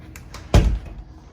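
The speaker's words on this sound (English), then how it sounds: "Let's go ahead and close this door." A house door swings shut with a single solid thunk, close by and fairly loud, followed by a short fading rattle in a quiet room.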